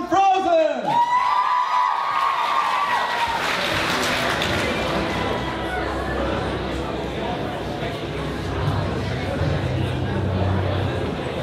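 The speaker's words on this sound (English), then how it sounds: "can I get a round of applause for Elsa from Frozen?" Cosplay competition crowd at Atsusacon 2014 breaks into applause and cheering after a brief melodic tone, a dense, continuous wash of clapping and whoops that holds steady for several seconds.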